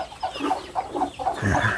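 Village chickens in a backyard henhouse clucking nearby, a quick series of short, soft clucks and murmurs with one slightly louder call near the end.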